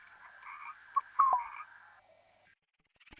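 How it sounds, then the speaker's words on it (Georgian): Frogs call near water, a couple of close croaks and trills standing out over a faint background, followed by a brief quiet gap and soft clicks. "ბაყაყები წყლიდან ამოსული ბუერების ქვეშ იმალებიან."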